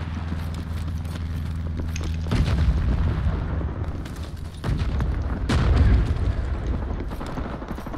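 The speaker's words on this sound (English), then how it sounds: "Our barrage is incoming." Artillery barrage in Rising Storm, the Vietnam-era shooter, with heavy explosions booming and rumbling in several bursts over steady low battlefield noise.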